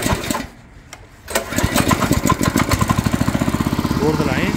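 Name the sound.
Fargo motoblock walk-behind tractor engine running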